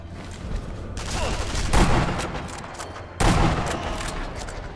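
Gunfire in the video game Sniper Elite V2, a sustained rattle of shots with two sharp, loud bursts standing out from the background noise.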